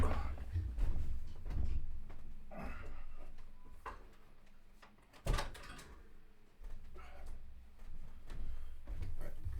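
Someone shuts a room door indoors, giving one sharp thud midway through a stretch of soft room noise and faint shuffling.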